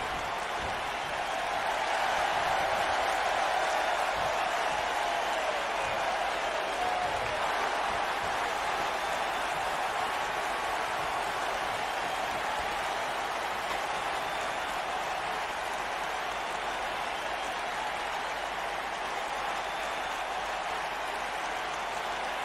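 Video game arena crowd in WWE 2K19 cheering and applauding steadily, a dense roar of clapping and voices that swells early and holds at a loud, even level throughout.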